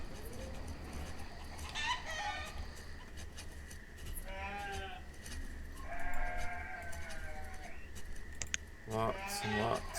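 Farm animals cluck and call in the video game Banished, several separate bursts of clucking and bleating-like cries over a steady background hum, moderately close with no speech.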